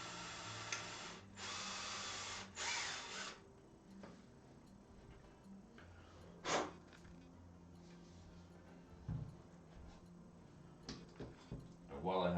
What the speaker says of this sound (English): While I have the drill out, I could go ahead and do the backplate screw holes.